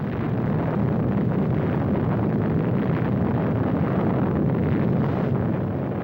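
Atom bomb blast in a 1951 civil defense film, a continuous loud, dense roar that holds steady without letup, like rushing wind from a distant explosion.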